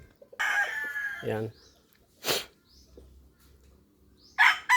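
Chickens kept in a shaded spot under banana plants on a hot day cluck and crow in bursts, one stretched crow followed by shorter calls, close by; a voice briefly speaks.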